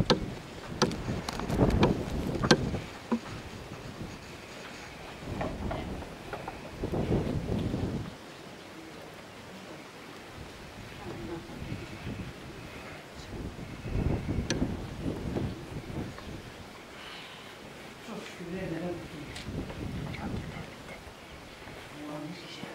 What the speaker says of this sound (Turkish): Yandan da rüzgar var.